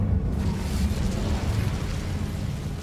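Incendio fire spell cast in Hogwarts Legacy, a heavy rumbling fiery burst with deep low boom and roaring crackle that sustains loudly for a few seconds.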